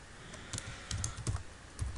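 Typing on a computer keyboard, with soft, close key clicks in a quick, uneven run and no talking.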